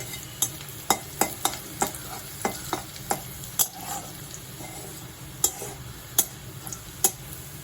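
Pumpkin and prawns frying in a pan, a sharp spatula scraping and tapping the metal in a regular rhythm over a constant low sizzle, close and with no voices.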